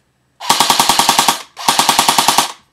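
An A&K M16 A4 airsoft gun on its standard 9.6 volt battery fires two loud, close, rapid full-auto bursts of about a dozen sharp mechanical shots each, with a short pause between them.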